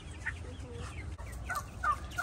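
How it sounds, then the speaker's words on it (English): Chickens at a coop cluck and squawk in short, scattered calls over a low background rumble, moderately close and fairly quiet, with no talking. "there you go, chickens"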